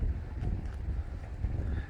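Low, rumbling buffeting of wind across a microphone, steady and muffled for a couple of seconds with no voices.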